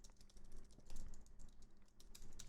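Quiet, rapid clicking of keys on a computer keyboard during Java coding, a steady run of soft keystrokes with no voices.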